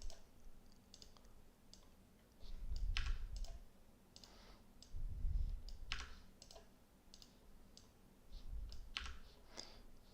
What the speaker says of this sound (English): cut the cards like this